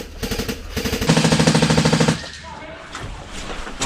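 Rapid gunfire bursts from an airsoft sniper game ring out for about two seconds in a fast, evenly spaced run of loud cracks, then drop away to quieter outdoor background with faint distant pops.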